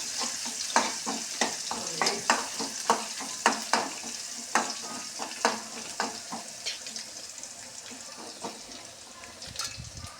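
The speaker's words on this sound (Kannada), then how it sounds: "ಈಗ ಬೆಳ್ಳುಳ್ಳಿ ಈಗ ಕಲ್ಸಾದ್ರಿ." Garlic sizzles in a hot pan while a utensil stirs it in repeated scraping strokes, a steady frying hiss broken by rhythmic clanks, close up with no talk.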